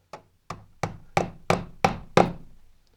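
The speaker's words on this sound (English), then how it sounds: "We're going to get another tube talon and the hammer." A hammer taps a Tube Talon fitting on Manabloc plumbing in seven sharp, evenly spaced knocks, each hit a little louder than the last, close up with no talk.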